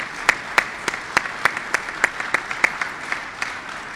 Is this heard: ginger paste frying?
no